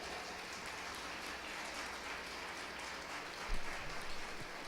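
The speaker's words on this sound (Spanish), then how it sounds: "Dale fuertes aplausos a nuestro Dios." Crowd applause during a church worship service, a dense, even wash of clapping that runs throughout, fairly faint and distant, with a slight swell near the end.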